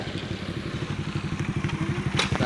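A rented geared motorbike on the Son Tra Peninsula in Vietnam idles with a steady, low throbbing pulse, close by and moderately loud, with a light clatter over it.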